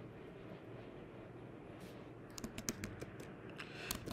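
A username is typed on a computer keyboard in a quiet room: a brief flurry of close, crisp key taps in the second half, then a final few presses.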